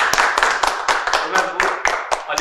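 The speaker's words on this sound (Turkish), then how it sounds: "Bir alkış yapayım." A few people clapping in a small room, a quick close burst of irregular sharp hand claps lasting a couple of seconds.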